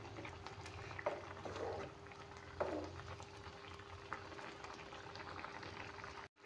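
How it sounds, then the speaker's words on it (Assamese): Fish and tomato curry bubbles in a pot with soft, steady simmering, faint gurgles and a few louder pops, with no voices. "এতিয়া যিহেতুকে মাছখিনি দি দিছোঁ, অলপমান টাইম 2 মিনিটমান উতল আহিব দিম।"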